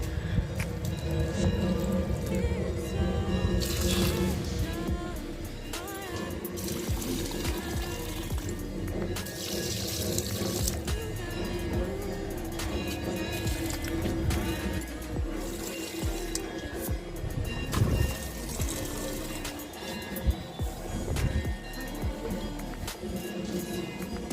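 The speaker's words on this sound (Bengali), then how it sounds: "এখানটা একটু জল দিয়ে দিই গাছে।" Water is poured onto potted plants in a dim corner of a home, a long, uneven trickle and splash mixed with scattered knocks and household clatter.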